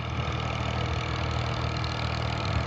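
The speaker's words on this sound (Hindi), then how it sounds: "ट्रैक्टर आ रहा है" A tractor engine runs in a field being prepared for rice planting, giving a steady, close, mid-to-low chugging drone that holds constant throughout with no speech.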